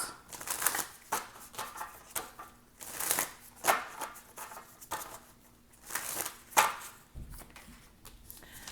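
Tarot cards are shuffled by hand in a series of soft, rhythmic riffling bursts about a second apart, fairly quiet and close, with no voices.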